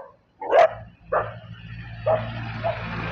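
A dog barks on a road during a motorbike ride, giving three or four separate nearby barks and yips over a steady low engine drone, with no talking.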